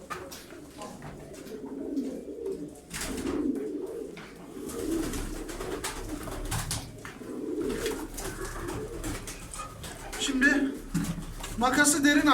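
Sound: birds, pigeons

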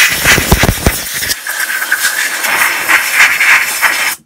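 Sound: air compressor blowing off carburettor parts

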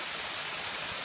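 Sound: waterfall

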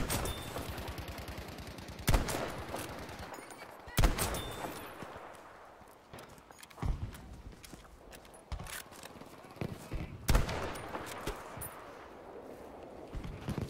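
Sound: ZH rifle gunfire in the video game Battlefield 5

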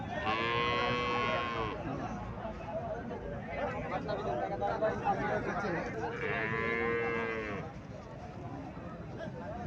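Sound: cow mooing

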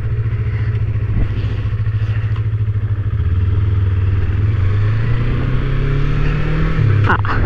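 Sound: Yamaha MT-25 twin-cylinder motorcycle pulling away

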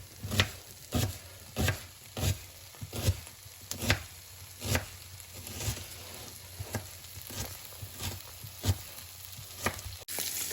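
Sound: chopping onion with a knife

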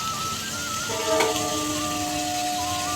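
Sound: taro and potato frying in a pan

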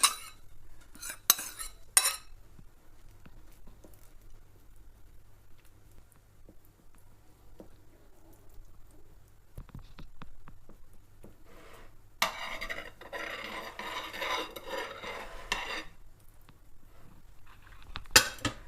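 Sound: utensil clinking while spreading liver cake layers

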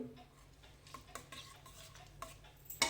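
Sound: stirring soaked basmati rice in coconut water

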